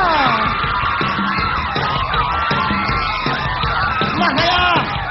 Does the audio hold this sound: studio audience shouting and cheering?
yes